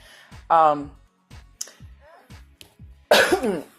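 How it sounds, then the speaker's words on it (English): A couple of short coughs break up quiet moments of speech, with a louder, rougher burst near the end. "I have a little bit of a cough."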